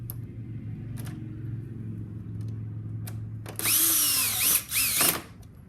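A power drill whirs in short bursts while driving air box screws on a 2003 Honda CBR600RR, loud and close after a low-level background hum, with no talking.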